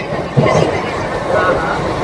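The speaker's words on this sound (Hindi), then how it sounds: "और ये मुंबई की लोकल ट्रेन" A Mumbai local train runs with a steady loud rolling rumble and rattle throughout, close by, with a voice speaking over it.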